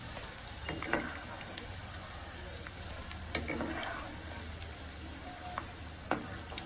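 Maggi masala punugulu, small batter fritters, frying in hot oil: a steady, soft sizzle with occasional sharp clicks and pops, heard close and alone.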